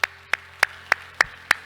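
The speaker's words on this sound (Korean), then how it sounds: "오늘 하나님께 영광의 박수 올립시다." Six sharp hand claps in a church, evenly spaced about a third of a second apart, near and distinct over a faint low hum, with no talking.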